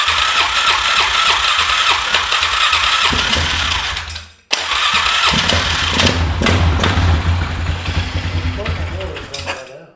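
A flooded 2001 Polaris Scrambler 500 ATV engine cranks and catches, running loud and rough at close range with a brief cutout midway before revving on, while voices talk over it.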